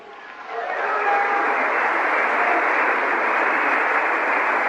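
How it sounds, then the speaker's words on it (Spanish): A church congregation applauds together, a steady broad wash of clapping that swells in quickly and holds evenly, moderately loud and close. "Un aplauso."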